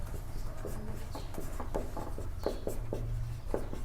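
Pen scratching steadily across paper as the formula for a sphere's volume is written out, a close, continuous run of short strokes with no talking.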